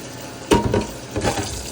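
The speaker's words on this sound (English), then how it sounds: "I'm gonna rinse these off." Running tap water splashes over fruits and vegetables being rinsed, with a couple of short bursts of water and handling noise close by.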